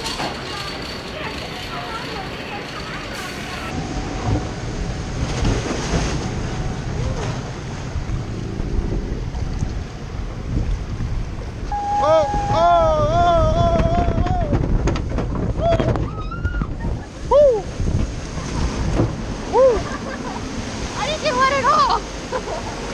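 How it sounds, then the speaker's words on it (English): Comet water coaster at Hersheypark: a steady roar of rushing water and wind buffeting the microphone, with riders' shouts and voices rising over the churn partway through. "Nice little water coaster over here."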